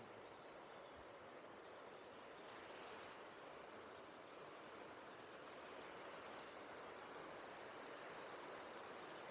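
Water rushes through a fish-pass channel beside the River Don in Sheffield, a steady, loud broadband roar with no pauses and no voices.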